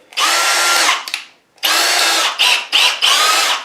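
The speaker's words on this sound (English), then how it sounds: "we need to drill a dimple for the set screw there" A power drill bores a dimple for a set screw into a shaft on a countershaft being rebuilt for a 13-inch South Bend lathe, running in loud close bursts: one long run, a pause, then several shorter pulses.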